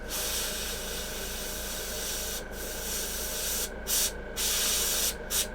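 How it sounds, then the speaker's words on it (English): An airbrush sprays yellow paint with a close, continuous hiss that runs almost unbroken, cutting out in a few short gaps near the end. "I think I'm going to spray just a tiny little bit here more, and then I'm going to clean this airbrush out"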